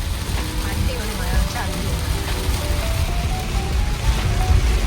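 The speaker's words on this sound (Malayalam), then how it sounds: "അടിപൊളി മഴ." Heavy rain pours in a steady, dense hiss that holds at an even level throughout, with low rumbling underneath.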